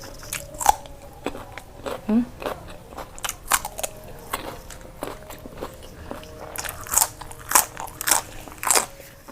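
Raw banana is bitten and chewed up close, with a series of sharp crunchy bites and wet chewing in an irregular rhythm against a quiet background.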